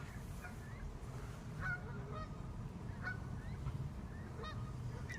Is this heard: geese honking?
yes